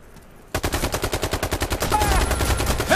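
Rapid automatic AK-47 fire in a shooting video game, a fast regular string of loud close shots that blurs into continuous gunfire with game effects layered on top.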